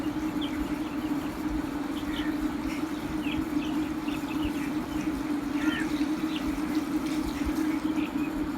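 Water is poured from a jug into a handi cooking pot for beef paya, a steady rushing trickle that runs unbroken throughout at moderate loudness.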